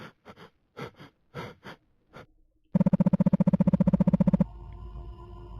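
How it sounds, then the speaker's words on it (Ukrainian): Heavy breathing in a horror game, a few short sharp breaths followed by a fast, loud, rhythmic panting run of about twenty quick pulses, close and alone, then fading into a low hum. "Дуже важко дихаємо."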